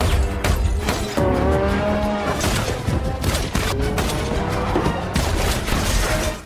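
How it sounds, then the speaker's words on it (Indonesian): A sports car races at speed in a movie chase while rapid gunfire crackles from the moving vehicle, with loud engine roar, tyre noise and sharp bursts of shots layered together. "Fox bergelantungan di mobil sportnya untuk menembak sambil mengemudi"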